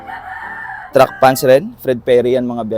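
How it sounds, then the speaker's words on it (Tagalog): A rooster crows loudly and close by, one long drawn-out call at a Philippine ukay-ukay track pants bale unboxing, followed by someone talking. "pasensya na kayo sa manok, andyan na naman yung manok"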